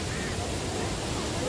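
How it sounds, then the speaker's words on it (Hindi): At Devi's Fall in Pokhara, Nepal, a waterfall gives a dense, steady roar of rushing water, loud and constant throughout the short stretch, with a voice heard faintly beneath it. "ये वाटरफॉल वही लग रहा है जो गुप्तेश्वर महादेव में हम लोगों ने देखा था"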